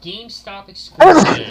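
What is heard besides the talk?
sneeze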